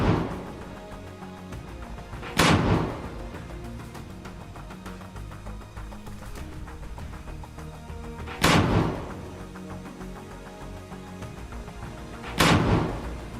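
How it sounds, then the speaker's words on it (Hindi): Rockets launched one after another by Hamas fighters hidden in greenery, giving three sharp, loud blasts spaced several seconds apart over a steady background rumble. "हमास के कुछ लड़ाके हरियाली में छिपकर लॉन्चर में रॉकेट भरकर दनादन दाग रहे हैं।"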